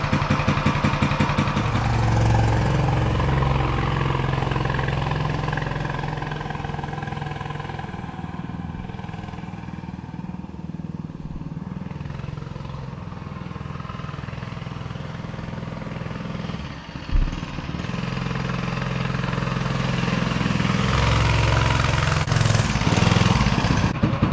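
Coleman CC100X mini bike's small engine idling as it warms up, a steady close putter that dips slightly midway, with a brief blip, then rises again toward the end.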